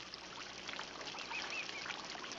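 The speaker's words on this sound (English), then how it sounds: "I hear the birds." Birds call outdoors over a steady trickle of water, a few faint, scattered chirps and quacking notes rising from a constant bed of flowing sound.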